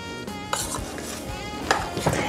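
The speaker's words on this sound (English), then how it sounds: "Stir it all up." Macaroni and cheese being stirred in a microwave multipot, close scraping and clinking of a utensil against the pot in quick irregular strokes, with no talking.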